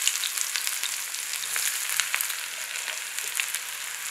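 Finely chopped onion fries in a pan with a bright, dense, steady sizzle and crackle, close and even, with no voices.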